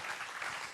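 Brief burst of audience applause at an official ceremony, a steady wash of clapping from a crowd, moderately loud and alone.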